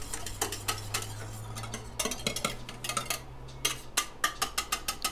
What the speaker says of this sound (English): So tilting it on the side and just whisking it up.